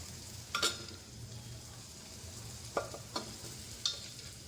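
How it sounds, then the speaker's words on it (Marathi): Boiled green peas stirred into masala frying in a pan for a Maharashtrian watana usal, a soft background sizzle broken by a few sharp spoon scrapes and clinks against the pan, close and without talk. "मसाले छान परतून घेऊया, आणि मग त्याच्यामध्ये आपण उकडलेला जो आपला वाटाणा आहे तो ह्याच्यात ॲड करूया"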